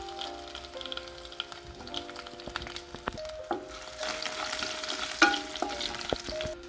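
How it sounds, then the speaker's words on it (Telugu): Crushed garlic and ginger fry in hot oil with mustard seeds, cumin and urad dal, making a close, steady crackling sizzle with light stirring ticks that swells slightly toward the end, with no talking. "ఆవాలు జీలకర్ర తర్వాత తెల్లుల్లి అల్లం దంచుకుని వేసుకోవాలి"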